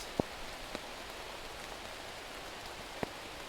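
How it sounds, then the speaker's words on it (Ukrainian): Heavy rain pours down in a forest as a steady, soft hiss, with a few sharp drips tapping nearby and no talking. "Дощ влупив капець."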